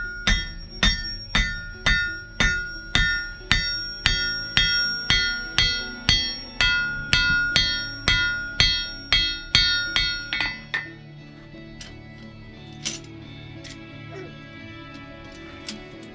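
A blacksmith hammering on an anvil while making tools at a Swedish heritage farmstead in Värmland, about twenty evenly spaced ringing metallic blows close by, then stopping, followed by a few scattered light knocks and quiet background sounds.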